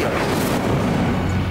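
Incendio fire spell cast in a PS5 video game, a loud dense roaring burst that holds steady for over a second and rolls on without a break.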